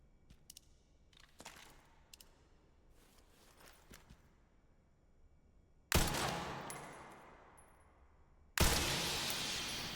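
Two loud gunshots from the Resident Evil Requiem video game ring out, each followed by a long decaying tail. Before them come quieter scattered clicks and thuds.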